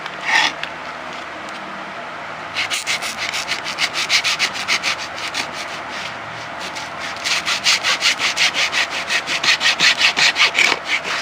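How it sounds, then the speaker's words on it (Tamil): Cardboard being cut into right-angle triangle pieces for a homemade tripod, heard as close rhythmic scraping strokes: a short burst near the start, then steady runs of strokes that grow denser and louder toward the end, with no talking. "இந்த அட்டை வந்து இது ரைட் ஆங்கிள் ட்ரையாங்கிள், அதாவது ஒரு ட்ரையாங்கிள் நான் கட் பண்ணி எடுத்துக்கிறேன் 4 பீஸு"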